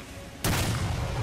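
A grenade explosion in the Medal of Honor: Allied Assault Breakthrough video game hits suddenly, a single loud boom followed by a sustained low rumble and crackle that fills the rest of the moment.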